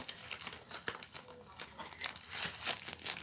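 Packaging around an Asonic dual PD charger box crinkles and rustles as it is handled and opened, in irregular close bursts, with faint talk in the background.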